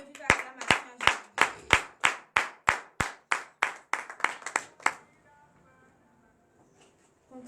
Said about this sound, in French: Donnez de vive acclamation